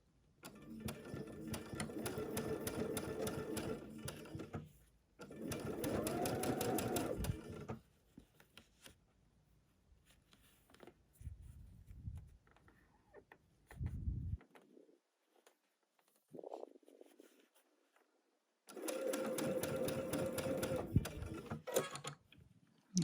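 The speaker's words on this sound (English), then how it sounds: "I always sew with needle down." A sewing machine stitches quilt blocks for a butterfly quilt in steady whirring bursts, pausing between runs, with quiet handling noises in the gaps.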